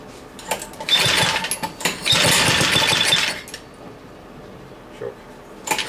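Speedway mini bike with a chain drive and throttle being cranked over on choke, bursts of sputtering engine noise in two or three rough attempts with pauses between, loud and close.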